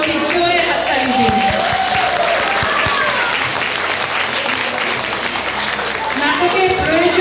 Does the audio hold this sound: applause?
yes